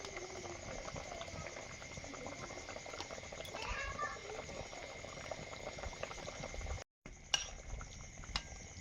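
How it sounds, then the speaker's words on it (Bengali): Magur fish curry with potato and papaya bubbling steadily in a cooking pot as the fish go in, a continuous soft simmering hiss with faint clinks of utensils, close and fairly quiet. "ঝোল ফুটে গেছে, মাছগুলো দিয়ে দিচ্ছি"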